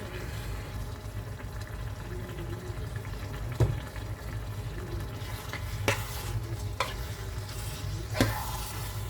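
Meat with pepper and chili cooking slowly in a pan, giving a continuous low sizzle and bubbling with a few sharp utensil clicks, alongside a steady background hum.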